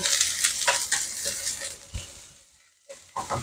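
Small fish sizzle in a frying pan with spinach, a loud close crackle broken by stirring scrapes and clinks, fading briefly quiet before the sizzling rises again.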